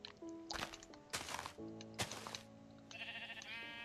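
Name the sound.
sheep bleating in Minecraft video game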